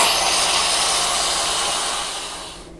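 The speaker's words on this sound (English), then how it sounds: "I'm just going to switch it to venting until all the air comes out, or all the steam comes out, and the pin drops" Loud, steady hiss of steam venting from an Instant Pot pressure cooker on quick release, continuous and close, tapering off toward the end as the pressure runs out.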